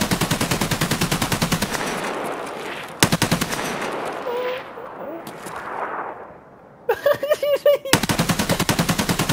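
Machine gun fire in the game Escape From Tarkov, long loud rapid bursts up close separated by brief pauses, with quieter game sounds and short muffled voices between bursts.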